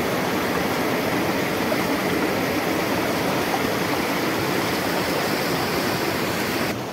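A deep river at a drowning spot roars constantly, a dense, loud wash of flowing water filling the whole stretch without any speech.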